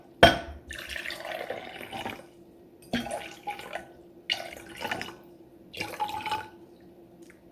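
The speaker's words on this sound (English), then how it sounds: "you're going to pour some water, doesn't matter if it's hot or cold, into each one" Water is poured into glasses in several separate short pours, each starting with a gentle splash and trickle, close and fairly quiet with silences between.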